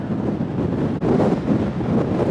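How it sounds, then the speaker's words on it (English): Steady, roaring wind from Storm Eunice at the coast buffets the microphone with broadband rumble throughout, a brief dropout near the middle, no voices. "it's still pretty windy"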